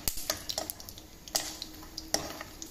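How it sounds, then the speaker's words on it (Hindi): Peanuts dry-roasting in a pan, giving off irregular sharp ticks and clicks as they are moved, with a faint underlying hiss. "ये मेरे मूँगफली रोस्ट हो रही है"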